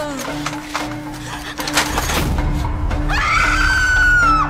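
A girl in a thriller film about alien creatures screams loudly, a shrill sustained cry rising suddenly near the end after a sharp bang-like burst and tense rumbling.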